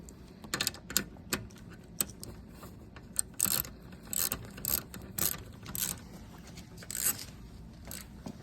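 Metallic ratcheting clicks from bolts being tightened on a Ram Mega Cab rear seat recliner handle, a series of short, fairly quiet close-up bursts in irregular rhythm.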